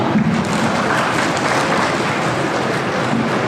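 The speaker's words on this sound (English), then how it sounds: "A huge round of applause for Shivam." A school audience at St. Peter's Convent School applauds a student speaker at a debate, a dense, even wash of clapping filling the whole stretch at steady loudness.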